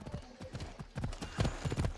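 Horse hooves clip-clop in a steady rhythm in Assassin's Creed Odyssey, the game horse trotting along with close, regular footfalls that grow slightly louder toward the end.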